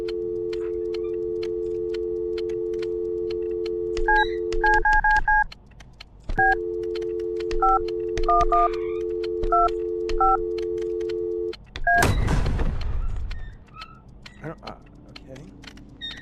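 Telephone keypad dialing tones from a video game: a steady dial tone, then clusters of short paired beeps pressed in irregular bursts, a second dial tone, more beeps, and a loud whooshing burst near the end.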